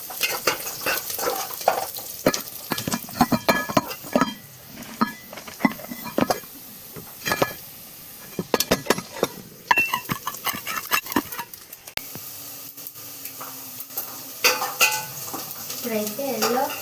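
Ingredients for a dondakaya munakaya curry are fried and stirred in a pan until golden, with a continuous sizzle broken by frequent loud scraping and clattering of a utensil against the metal pan.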